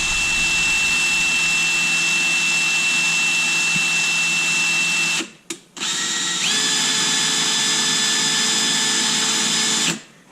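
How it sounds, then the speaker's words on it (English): Electric drill spinning an Associated RC ball differential, a loud steady high whine that cuts out briefly and resumes at a slightly higher pitch before stopping near the end. "chuck it into a drill, and then we just got the diff functioning"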